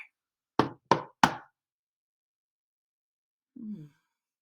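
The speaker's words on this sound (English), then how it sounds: "Looks like that rascal Possum's knocking." Three sharp knocks on a door in quick succession, loud and close, followed by silence and then a soft low sigh-like sound.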